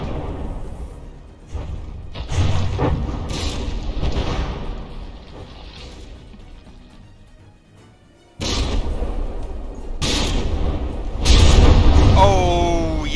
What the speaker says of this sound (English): Yep, that went right down through the top of that turret.